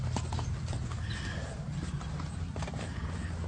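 Horses caught on a trail camera walk along with close, uneven hoof clip-clops, while a deer moves among the herd. A neigh cuts through the steady outdoor background.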